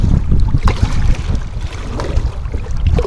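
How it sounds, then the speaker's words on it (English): Strong wind on Vaseux Lake buffeting a kayak, a loud, rumbling, gusty roar with low-frequency microphone buffeting and lapping water, continuous and close throughout. "When it gets windy and you're on a kayak,"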